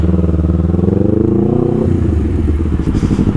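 A Honda CBR250RR sport bike engine revs hard while riding, its pitch climbing steadily, then dropping and climbing again. The loud, close, continuous roar has no voices over it.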